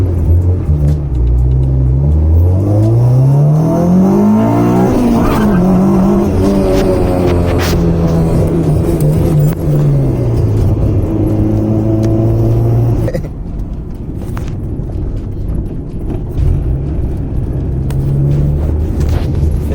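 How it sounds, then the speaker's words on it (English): A car engine pulls hard through the gears into VTEC, revs climbing in repeated rising sweeps, loud and close inside the cabin, before dropping back to a lower drone near the end, with no talk. "it's cracking VTEC hard."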